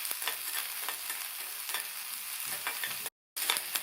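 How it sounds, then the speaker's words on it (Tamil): Garlic, onion and green chillies sauté lightly in a pan for a cabbage and chana dal dish, making a continuous close sizzle with frequent stirring scrapes and a brief dropout near the end. "இதையெல்லாம் லைட்டாக வதக்கி விட்டுக்கலாம்."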